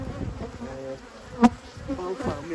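Honeybees buzz around an opened hive, a dense close drone with one sharp louder buzz as a bee passes near, and no voices.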